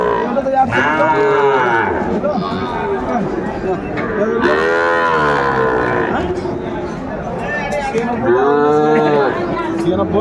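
Sahiwal bull calves moo repeatedly at a busy cattle market, several loud, close, drawn-out calls in succession, with people talking and chatter around them.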